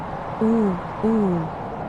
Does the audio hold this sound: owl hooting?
yes